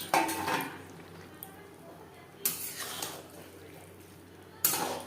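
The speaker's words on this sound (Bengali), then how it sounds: "গ্রেভির সাথে আলতো হাতে মাছ বেশ ভালো করে মিক্সড করে দেব" Fried mourola fish folded gently into gravy in a metal pan: three distinct clanks of a utensil against the pan, one at the start, one midway and one near the end, over a quiet background hiss.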